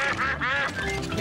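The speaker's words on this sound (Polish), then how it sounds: "Witajcie, kaczki." Cartoon ducks quack in a quick run of nasal calls across the whole moment, set against soft animated background sound in a Peppa Pig episode.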